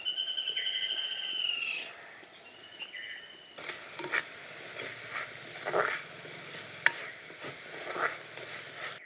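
Sliced onion and green chillies sautéed in oil with salt for banana stem curry, a quiet crackling sizzle with intermittent stirring scrapes and a clink, following a brief tonal beep, close with no talk.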